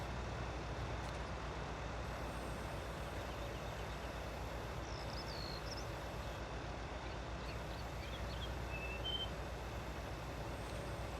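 Tractor engine hum in Farming Simulator 19 while baling straw, a steady loud drone that runs the whole time, with faint higher machine chirps from the baler now and then.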